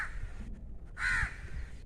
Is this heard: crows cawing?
yes